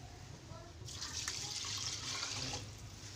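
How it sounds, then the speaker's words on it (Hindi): Water is poured from a tap or vessel into a pot of soaked rice and green peas for matar pulao, a steady close splashing flow lasting under two seconds over a low background hum. "और अब मैं पानी डालूँगी।"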